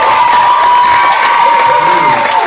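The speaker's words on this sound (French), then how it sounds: "On applaudit." Audience at a Magic Mirrors stage show applauding and cheering, a dense steady wash of clapping with whoops and shouts mixed in, continuous and fairly loud throughout the short stretch.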